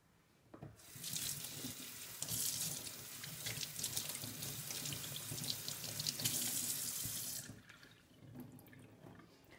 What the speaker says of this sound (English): So I'm going to rinse this in cold water.